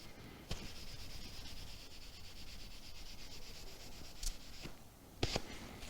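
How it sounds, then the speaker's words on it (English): Wax finish is buffed by hand on a wooden surface, giving a quiet, steady rubbing hiss with a few sharper scuffs near the end; the sound is close and faint, and no one speaks. "So I buff this lighter area first, just to put a bit of shine on the very top."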